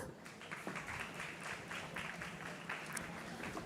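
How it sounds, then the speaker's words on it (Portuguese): An audience at a talk on meat consumption claps in soft, continuous applause that stays fairly faint and even, with no one speaking over it. "Palmas para o Dr. Alessandro"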